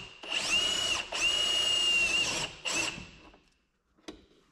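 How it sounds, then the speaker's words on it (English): Power drill drives self-tapping screws into a sheet metal bracket behind a 3rd-generation Camry's trim, with two long whirring runs, a short burst, then a brief click as it stops. "some self-tapping screws to get this secured to the bracket"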